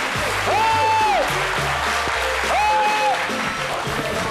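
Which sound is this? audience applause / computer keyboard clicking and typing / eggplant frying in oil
audience applause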